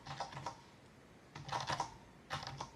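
Typing on a James Donkey 619 mechanical keyboard without backlight, heard as three close bursts of clattering keystrokes separated by short pauses, recorded indoors at home with no talking.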